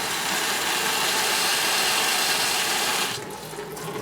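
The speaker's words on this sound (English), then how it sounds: "You just basically create a good solid stream with your thumb and spin the record around to clean all the soap off" A strong, close stream of tap water, narrowed by a thumb, sprays across a spinning vinyl LP to rinse off soap, a loud steady hiss that drops away sharply near the end.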